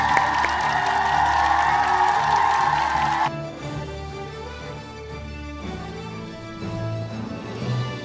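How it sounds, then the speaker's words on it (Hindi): Applause from an audience at a school annual function, a dense wash of clapping that is loud for the first three seconds, then thins and fades, with some music or tones underneath. "Clap for them, audience, please."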